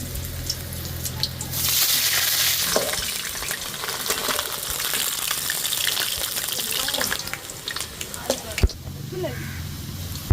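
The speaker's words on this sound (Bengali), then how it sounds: "তেল গরম হয়ে গেছে এবার আলুটা দিয়ে দেবো" Potato pieces dropped into hot oil for a mutton curry give a loud burst of frying sizzle after a quiet start, with clattering stirring and a few sharp knocks, settling near the end.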